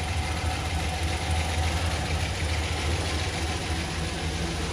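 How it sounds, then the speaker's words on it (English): Pickup truck engine idles steadily on its stock exhaust and muffler, with a slight exhaust leak at the manifold, making a continuous close low rumble with a faint ticking texture and no talking. "I hear a little bit of a exhaust leak on this manifold."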